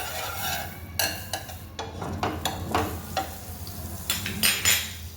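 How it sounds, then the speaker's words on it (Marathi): Pav bread toasting in butter in a pan for an aloo toast snack, a soft sizzle broken by repeated clinks and scrapes of a spatula turning the bread, close and fairly quiet, no talk. "हा जो पाव आहे तो थोडासा पलटवून घेऊयात, म्हणजे दोन्ही साईडला आपल्या बटर लागलं जाईल आणि असं करून आपल्याला भाजून घ्यायचं आहे"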